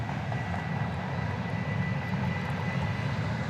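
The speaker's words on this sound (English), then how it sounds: "we've got a Delta 757 coming in" A Delta Boeing 757 on approach into Dallas Love Field at night, a steady, broad engine roar holding at an even level throughout, with no voices.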